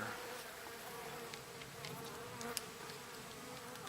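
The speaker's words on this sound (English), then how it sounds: "This is a very active hive for this time of year." Steady, dense buzzing of many honey bees close by at a very active homestead hive in fall, a continuous drone with no talking.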